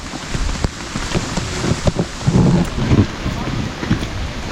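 Steady rain patters outdoors on a mountain trail with dense broadband hiss, a few louder drops and rumbling gusts, while people talk faintly in the background.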